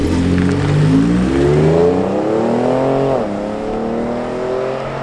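A loud V8 engine in a second-generation Ford Raptor pickup revs hard in sport mode and climbs steadily in pitch, shifting once partway through, then keeps pulling with a strong, continuous roar up close.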